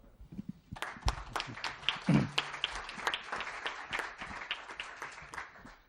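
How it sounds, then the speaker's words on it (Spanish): An audience at a Spanish book presentation breaks into applause, starting as scattered claps and swelling into a dense, lively patter of many hands that carries on steadily to the end. "Un aplauso."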